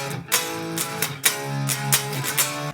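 Basic programmed drum pattern triggered from a guitar through the MIDI Guitar 2 drum plugin, with steady kick and cymbal hits in a regular rhythm, fairly loud and alone with no talking.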